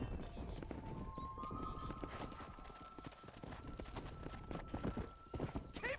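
Horses gallop in Red Dead Redemption with steady, loud clip-clop hoofbeats running the whole way, along with a faint whinny and occasional game sounds.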